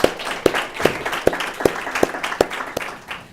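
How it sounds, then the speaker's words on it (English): A few people in a mock courtroom exercise clap in a sparse, regular rhythm, each clap crisp and distinct against a quiet room. "Let's give them all a round of applause for that."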